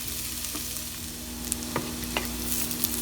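Home fried potatoes and onions sizzle steadily in a pan while a utensil stirs them, with a few scraping clacks over the constant close frying hiss and no voices.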